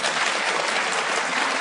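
An audience bursts into sustained, loud applause, a thick and steady patter of many hands clapping with no speech over it.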